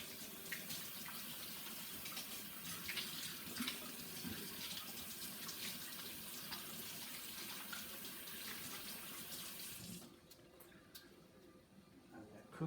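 Tap water runs in a steady hiss into a kitchen sink during handwashing, close and continuous for about ten seconds before cutting off to quiet room tone.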